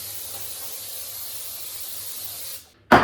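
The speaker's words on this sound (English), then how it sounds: "I'm going to spray our pans here." Cooking spray hisses onto pans in one long continuous burst that cuts off, followed by a short louder second spritz, close up with no one speaking.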